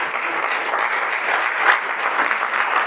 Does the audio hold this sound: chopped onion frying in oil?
no